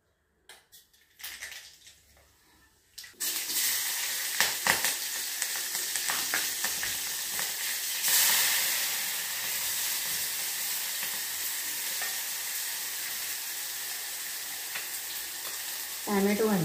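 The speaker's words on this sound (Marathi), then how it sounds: "आता मी फोडणी करून घेणार आहे नेहमीप्रमाणे" Peanuts, tomato and spices tempering in hot oil for a puffed-rice dish, a loud continuous sizzle erupting after a quiet start, with crackling pops and occasional pan scrapes over a steady hiss.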